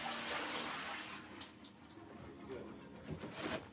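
Water runs from a tap as a rag is rinsed during catheter care in a nursing skills setting, a close rushing stream that fades and swells with splashes.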